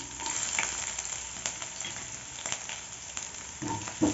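Chopped garlic and ginger sautéing in a pan for lemon pepper chicken, a continuous close sizzle with occasional spatula scrapes and stirs, no talking.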